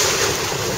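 Ocean waves and gusty wind in open water during outdoor ocean swim training, a continuous loud rushing wash with steady wind buffeting the microphone throughout.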